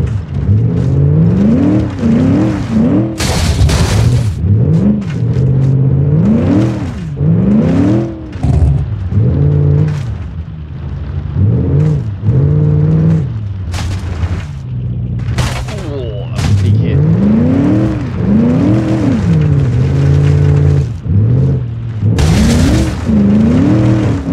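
A V8 muscle car engine in the driving game BeamNG, stuck in deep water, revs loudly and repeatedly in rising and falling surges, close and continuous, with a few sharp bangs between the revs.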